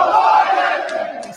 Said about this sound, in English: Trump is booed and the crowd chants, "Let's go Biden."